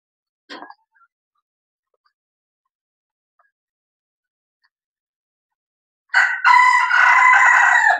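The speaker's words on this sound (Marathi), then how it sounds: "हा आहे गावरान कोंबडा। तर याचा आवाज पाहिला तुम्ही ना कसा आहे?" A short squawk early on, then after a long silence a native village rooster on a poultry farm crows loudly and close by, a long drawn-out call.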